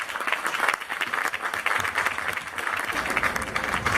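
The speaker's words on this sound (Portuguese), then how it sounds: "Uma salva de palmas para ambos, por favor." An audience at a literary fair honouring writers bursts into steady, continuous applause, many hands clapping densely at moderate loudness for the full length.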